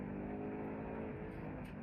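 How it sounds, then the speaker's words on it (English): A Ford Mustang Mach 1 engine drones in a low, steady rev, fairly quiet and held level before easing slightly toward the end, with no talking. "You really have to rev this engine to get the most out of it."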